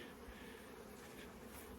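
Honey bees swarming close around a beehive after the honey supers were removed, making a dense, steady buzz that fills the whole moment with no voices.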